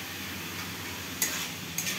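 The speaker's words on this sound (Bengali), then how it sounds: "তো এখন এটাকে ভালো করে মিক্স করব।" Spinach with eggplant, fried peanuts and lentil dumplings (kalai bori) being stirred in a pan, a soft steady scraping and sizzle with two brief sharper clinks of a utensil against the pan.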